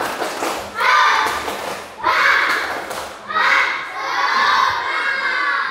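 Classroom of children doing a spirit-clapping chant, loud group shouting and chanting in rhythmic bursts of about one second with thumping claps, close and filling the room.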